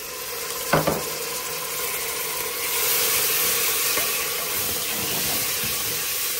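Onion, ginger, chili, garlic and tomato drop into a hot pan with a sharp clatter, then sizzle loudly and steadily up close, swelling a little as they cook, with no talk.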